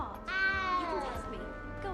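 A small cat in the Hogwarts Legacy video game meows loudly in a long, high, drawn-out cry, with a voice talking softly beneath it.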